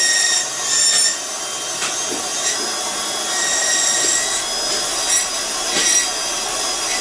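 A dental bur grinds an acrylic temporary bridge, flattening the occlusal surface with a continuous high-pitched whine broken by short bursts of contact.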